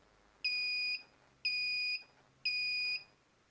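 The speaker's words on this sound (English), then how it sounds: "Next up I have the beeper noise, which is featured on the charger." Foxnovo F-4S battery charger beeper sounding three evenly spaced, shrill electronic beeps, each about half a second long, clear and alone against a quiet background.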